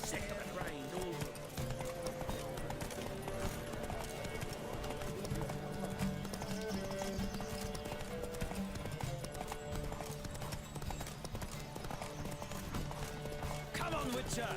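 Rapid, steady hoofbeats of a galloping horse in The Witcher 3: Wild Hunt run throughout, dense and loud, with an occasional whinny and voices shouting over the pounding.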